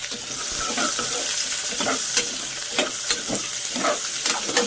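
Green chillies and onion fry for chicken biryani, a constant close sizzle with frequent sharp crackles and stirring scrapes, no voices over it.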